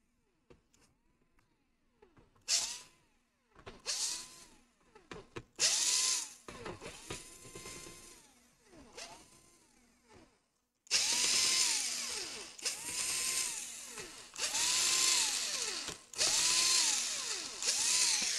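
A power screwdriver backs out heatsink screws on a Lenovo Legion Y540 laptop, giving repeated short whirring bursts with rising and falling pitch, separated by pauses, growing louder and more continuous toward the end.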